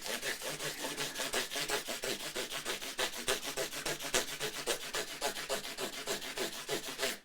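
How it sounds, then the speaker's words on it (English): Wet-and-dry sandpaper is rubbed rapidly back and forth over the frets of a Squier Affinity Starcaster guitar neck, a loud, continuous rasping scrub with a steady stroke rhythm and no talking. "working through a series of grades of sandpaper, wet and dry, to polish and sand out and polish out these frets."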